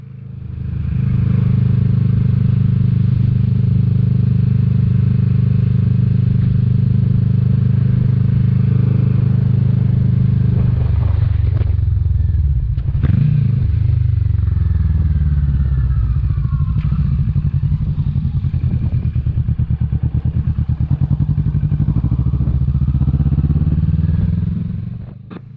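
Kawasaki Vulcan S 650 motorcycle ridden on a windy day, its engine droning steadily with a clunky gear shift midway, a brief drop and clatter before the engine pulls again at a changed pitch under wind noise.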